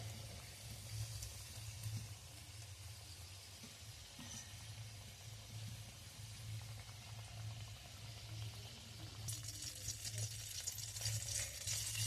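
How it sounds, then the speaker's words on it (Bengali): Elojhelo sweets fry in white oil in a wok over low heat, a faint continuous sizzle and bubbling hiss with occasional stirring scrapes, quiet and steady with no talking. "এলো ঝেলোগুলো ভেজে নেব প্রথমে সাদা তেল দিয়ে দেবো কড়াইতে"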